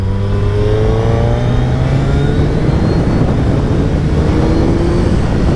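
A 2024 Suzuki Hayabusa motorcycle engine accelerates with a loud, continuous roar, its pitch climbing steadily through the gears, close and unbroken by speech.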